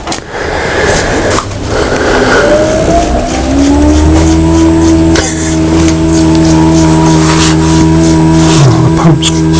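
A domestic heating system pump running after the boiler pressure was topped up from zero bar, a loud steady mechanical hum with rising tones that settle into a constant drone, with bursts of clatter early on.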